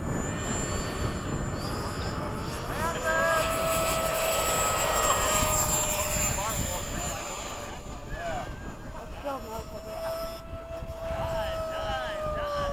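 FMS 70mm EDF F-16 model jet flying overhead, a steady high-pitched ducted-fan whine that rises and falls as it passes, continuous and fairly loud over wind noise, with people talking nearby.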